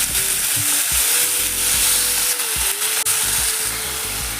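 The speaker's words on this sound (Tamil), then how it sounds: "வெங்காயம் தக்காளி நல்லா வதங்கணும்" Onions and tomatoes sautéing with rock salt in a pan for a country chicken curry, a steady close sizzle with stirring scrapes throughout, no talk.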